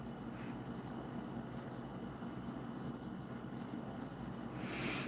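A pencil moves across paper while a crochet chart is drawn out, giving a continuous soft scratchy rubbing that stays close and even for several seconds over a faint background hum.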